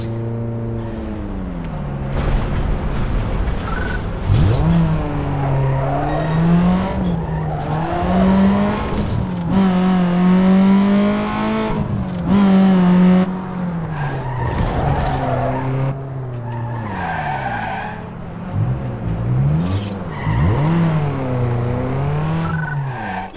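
A Toyota Corolla drifts in Need for Speed Underground 2, the engine revving and wavering over long, loud tire squeals and skids that continue almost without a break.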